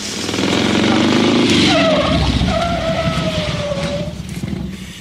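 A motor vehicle slows to a stop with a loud skidding, squealing tire screech sliding in pitch over a rumbling engine, then eases off toward the end.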